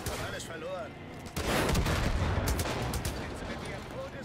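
Gunfire in the video game Far Cry 5 erupts as a burst of loud, dense shots that carries on steadily after a quieter stretch at the start, with faint game sounds underneath.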